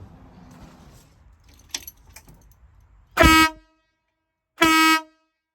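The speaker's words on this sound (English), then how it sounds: "I will show you how this horn sounds" An International dump truck's newly installed air horn blasts twice, each loud, brassy honk lasting under half a second, after some faint handling noise and clicks.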